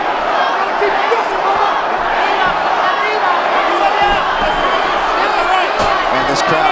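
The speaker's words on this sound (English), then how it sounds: "And this crowd, you can hear this crowd." Arena crowd roaring continuously through a UFC bout between Yair Rodriguez and the Korean Zombie, a loud dense wash of cheering with a few sharper whoops and thuds rising out of it.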